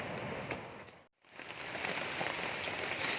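Steady rain falling in a forest at a campsite, an even hiss with a brief dropout near the middle, moderately loud throughout.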